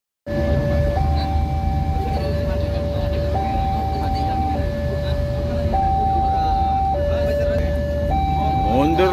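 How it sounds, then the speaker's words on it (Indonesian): A reversing train's two-tone horn alternates steadily over a loud rumbling of wheels and engine, close by and continuous throughout, beside Malioboro, Yogyakarta, at night. "Mundur lagi, sepur balik."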